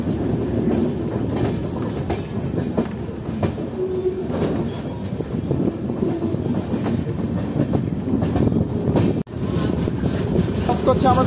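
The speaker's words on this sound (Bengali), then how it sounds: "খানা জংশনে আমাদের ট্রেন এখন ঢুকছে।" Shantiniketan Express (12337, Bolpur service) rolls into Khana Junction, heard from on board as a loud, steady rumble of wheels and carriages with rhythmic clatter throughout and a momentary dropout near the end.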